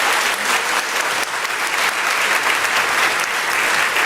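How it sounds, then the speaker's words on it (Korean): A church congregation claps steadily for a children's choir at a Sunday service, a dense, even wash of applause sustained throughout with no voices on top. "박수로 우리 아이들 환영하겠습니다."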